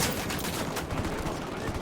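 Sustained, dense gunfire roars through a Ghost Recon Wildlands firefight at a yard, with a sniper engaging; steady and loud, with no clear separation between shots.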